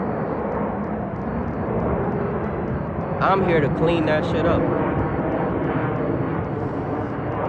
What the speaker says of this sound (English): how many planes have we heard